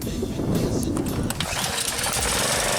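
A John Deere double-bagger mower engine is pull-started in a yard, a rough mechanical burst catching and running steadily up close for a few seconds, with speech mixed in.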